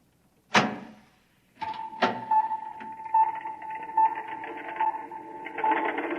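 A door opening as a sound effect in a 1956 radio drama: two sharp clunks a moment apart, then a steady mechanical hum with a faint rhythmic pulsing that grows slightly louder.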